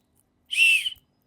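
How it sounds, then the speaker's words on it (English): A single short, shrill blast from a small emergency whistle out of a jet ski first aid kit, close and loud, lasting about half a second against silence. "There's a whistle."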